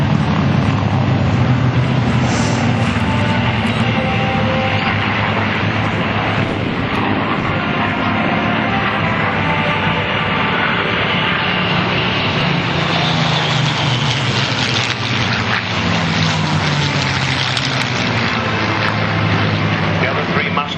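P-51 Mustang warbirds flying at the Duxford Legends airshow, including Jim Beasley's Mustang Twilight Tear: a steady, loud piston-engine drone and propeller roar that fills the whole stretch, with crowd and wind noise mixed in.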